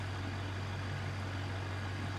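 In the BeamNG.drive game, a truck backs up toward a trailer, its heavy engine idling with a steady low drone and rumble that holds constant at moderate loudness, with no talking.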